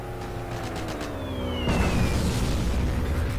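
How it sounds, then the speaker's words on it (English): An 88 anti-tank gun fires in Forgotten Hope 2 on the Gothic Line map, with a loud boom that fills the scene. A dense, rumbling burst rises halfway through and stays heavy to the end. "Oh, this is an AT gun."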